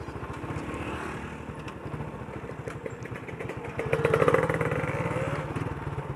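A Yamaha New Jupiter MX 135cc motorcycle engine runs close by with a rapid, throbbing putter that rises louder partway through as it revs.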